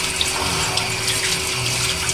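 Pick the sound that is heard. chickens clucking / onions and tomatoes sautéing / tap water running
tap water running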